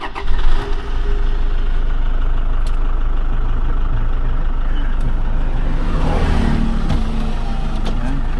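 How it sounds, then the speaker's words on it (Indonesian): A 2014 Toyota Fortuner diesel with a VNT turbo cranks and fires up, then settles straight into a loud, steady, close-up running rumble. "Oke, kita hidupin dulu mesinnya, kita kontak on."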